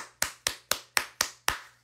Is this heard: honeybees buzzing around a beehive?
no